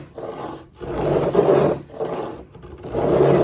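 A freshly sharpened hand plane takes shavings off a piece of wood in two long rasping strokes, each rising to a loud, coarse scrape before fading. The work is close, with no surface under it to steady it.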